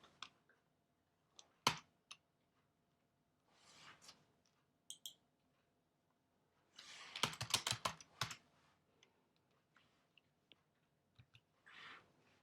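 Typing on a computer keyboard while designing in Photoshop: scattered key clicks and short bursts of rapid tapping, close and quiet, with pauses between bursts and no talking.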